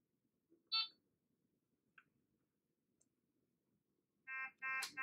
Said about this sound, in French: Stoppez l'alarme en appuyant sur le bouton Stop.